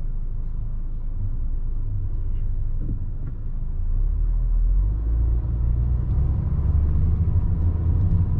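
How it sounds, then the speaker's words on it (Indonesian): Inside an Australian-version Honda Jazz GK5 with firm suspension, driving over a bumpy road brings a steady low cabin rumble that grows heavier partway through, with no talk. "barusan gue ngelewatin jalan yang agak bergelombang, dan di situ berasa banget bahwa mobil ini suspensinya terkategori"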